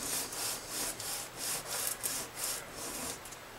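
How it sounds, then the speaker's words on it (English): Light sanding of a nut for an American Fender Stratocaster guitar gives a quiet, even rasp repeated in about seven regular back-and-forth strokes, close and soft with no talk. "again, it's very light sanding"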